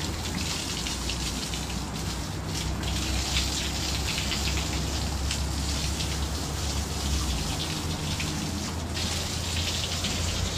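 Water gushes and splashes steadily during bathing in a rural setting, a dense, continuous rushing noise close by with no voices over it.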